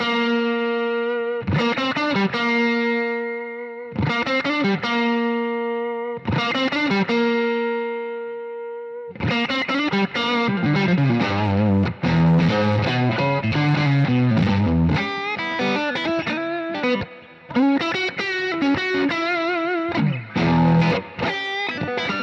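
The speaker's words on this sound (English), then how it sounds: "I kind of like to increase the loudness and then find the perfect spot for the drive again" Electric guitar driven through an overdrive pedal, first three separate sustained chords with pauses between them, then a busier, dense run of gritty riffs and single notes, loud and close with no speech.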